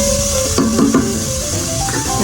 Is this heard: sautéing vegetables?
yes